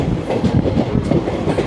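A train rolls into Rampurhat Junction station, its wheels and carriages producing a steady, loud rumble with rhythmic clatter throughout.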